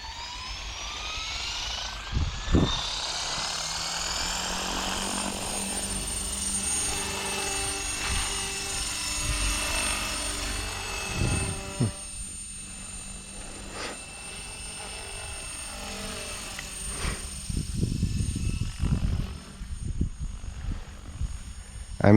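Blade Fusion 550 RC helicopter in flight, its rotor and motor giving a steady whine with rising and falling pitch, heard at moderate distance with scattered thumps and outdoor noise.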